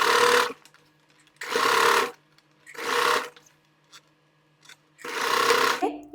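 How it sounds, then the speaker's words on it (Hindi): Sewing machine top-stitching a gown with golden thread, running in four loud bursts of steady stitching separated by short pauses, close up and with no talk. "और अब इस पर हम गोल्डन कलर का धागा चलाकर इस पर टॉप की सिलाई चला देंगे, जिससे ये और अच्छे से फिक्स हो जाए।"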